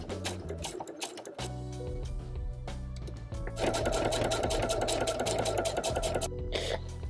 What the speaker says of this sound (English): And we're just gonna top stitch it in.